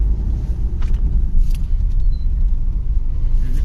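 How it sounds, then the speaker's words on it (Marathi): Many vehicles in heavy road traffic make a dense, continuous low rumble of engines that stays loud and steady throughout, with no voices. "एवढं ट्रॅफिक"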